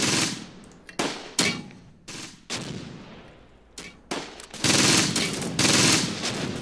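An MG42 machine gun fires in a WWII strategy game, with sharp bursts and single cracks that echo off into tails and grow denser toward the end.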